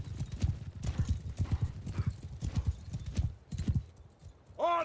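Horses gallop in a Mount & Blade II: Bannerlord battle, a dense, rapid clip-clop of many hooves pounding close and loud, with a horse's whinny rising sharply at the very end.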